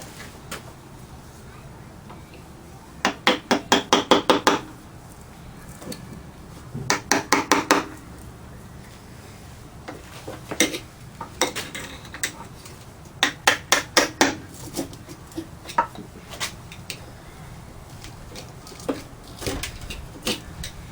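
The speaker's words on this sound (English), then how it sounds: "Just enough that I can get a screwdriver in there and work it back and forth." Metal clinks and taps in quick rattling clusters come from a screwdriver worked back and forth to pry the cylinder head off an old Hercules 2 1/2 HP engine, close by against a quiet background with a high steady whine.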